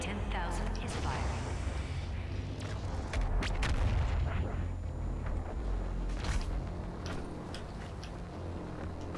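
The BFG 10,000 firing in Doom Eternal, deep booming artillery-like blasts and rumbling under a game announcement voice and someone talking.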